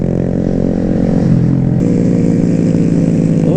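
A big bore Honda Grom motorcycle with a Hindle exhaust, its engine droning loud and close with a steady throaty note that shifts pitch partway through as it revs and changes speed.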